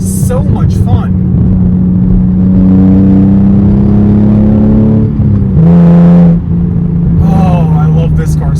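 A rally car engine drones loud and close while driving winding back roads in the Smokies, with a steady rumble and a brief surge of rising revs, and occasional voices in the cabin.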